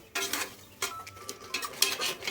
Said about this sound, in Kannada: ಈ ಮಸಾಲೆ ಹಸಿ ಸ್ಮೆಲ್ ಹೋಗೋವರೆಗೂ ಸ್ವಲ್ಪ ಫ್ರೈ ಆಗಿ ಆಗಬೇಕು